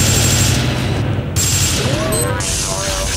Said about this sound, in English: Is that guy shooting me?